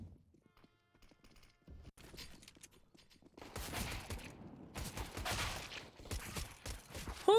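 Glock pistol fire in a competitive video game match, with sharp shots and crackling bursts growing denser and louder midway through a busy, noisy stretch of game sound.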